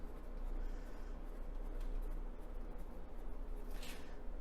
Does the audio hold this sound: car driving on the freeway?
no